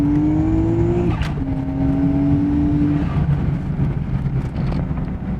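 A Nissan R32 Skyline GT-R with a swapped-in R34 Getrag 6-speed gearbox accelerates hard on high boost, its loud engine note climbing, breaking off briefly at a shift, then pulling again under heavy wind rush.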